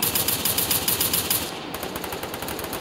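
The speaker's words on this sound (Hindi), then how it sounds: "ये ऐसे ही गोली चला रहा है" Rapid automatic gunfire from the Free Fire battle royale mobile game, a dense rattling burst of shots that runs the whole time with only a brief lull midway, loud and close.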